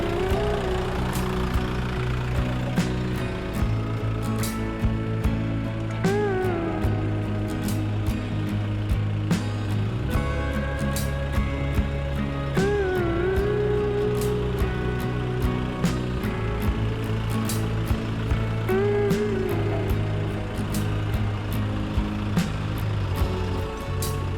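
A Dong Feng 404 tractor engine running steadily in a rural farm setting, a continuous close, loud mechanical drone with occasional faint higher tones over it for the whole stretch.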